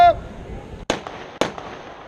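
Two sharp, loud gunshots from an M1 carbine at an outdoor firing display, spaced about half a second apart, each with a short echoing tail; a brief voice precedes them.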